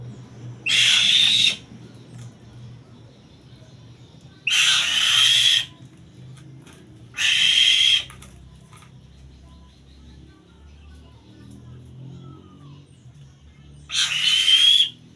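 Two young falconet chicks (alap-alap) give shrill, piercing whistled calls, four loud separate bursts of about a second each with quiet pauses between, close by.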